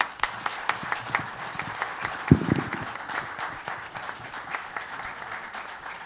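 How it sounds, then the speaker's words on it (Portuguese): Audience applause at a Brazilian literary academy ceremony, a steady wash of many hands clapping at moderate volume for several seconds, with a few sharper claps standing out and a brief low murmur partway through. "Eu queria pedir palmas para Carmen Schneider Guimarães."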